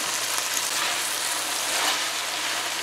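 Shredded cabbage goes into a hot pan with chicken for a stew, and a loud, dense sizzle follows. It stays steady and close throughout with no voices.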